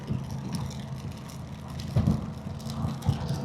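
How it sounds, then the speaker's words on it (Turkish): Steady rush of rain and wind while riding a motorcycle, with a low rumbling engine underneath, a continuous wash of noise with a couple of brief louder bumps. "Yağmurun içinden geçiyoruz herhalde biz."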